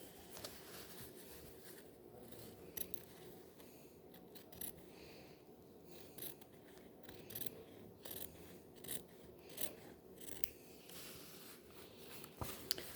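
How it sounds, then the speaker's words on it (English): Scissors cutting fabric along the cross grain for a ballet bodice, a quiet run of rhythmic snipping and rasping blade strokes, close and steady. "I'm going to cut on that line."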